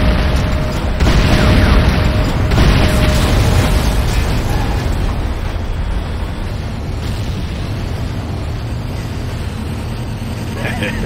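GDI infantry barracks exploding after being destroyed in the video game Renegade: a loud, heavy boom bursts out and then rolls into a long, dense rumble that slowly fades.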